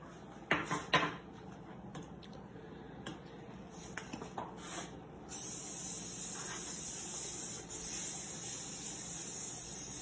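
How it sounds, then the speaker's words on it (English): A few clinks and taps of kitchenware, then an extra virgin olive oil cooking spray hisses in a steady, close burst for several seconds with a brief pause. "Plain extra virgin olive oil spray"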